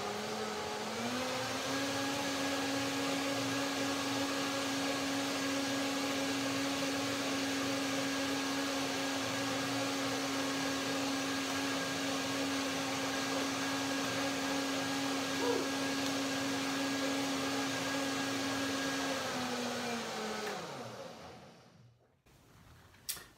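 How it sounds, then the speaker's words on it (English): Blender blending a chili cashew mayonnaise, a steady loud motor whine held for about twenty seconds before winding down and stopping. "One more blender dance."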